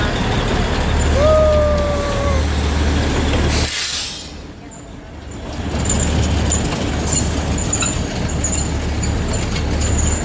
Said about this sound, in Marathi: ही ट्रेन दुसरीकडे चालली आहे.